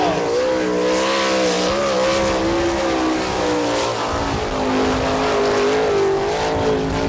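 An All Star Circuit of Champions sprint car on its qualifying lap at Attica, Ohio, its engine loud and continuous with the pitch rising and falling as it powers around the track.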